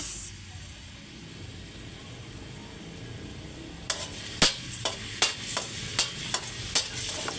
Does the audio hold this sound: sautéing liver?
yes